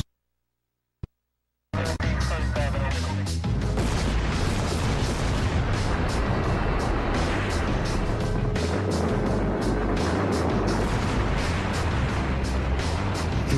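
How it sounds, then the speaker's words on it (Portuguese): After a sharp isolated crack, a massive dynamite blast at the Itaipu dam works erupts into a sustained, thundering roar of rushing debris and rumble that continues loudly throughout. "A explosão lembrou fogos de artifício."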